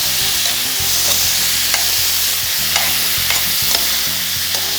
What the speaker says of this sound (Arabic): راه هو يتقلى